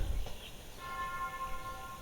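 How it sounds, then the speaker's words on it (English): Warning bell ringing in the castle-building strategy game Castle Lo Mania, signalling an imminent attack; a faint sustained chime rings over a low murky background, with no talking. "That bell is indicating that we are going to be under attack very shortly by somebody."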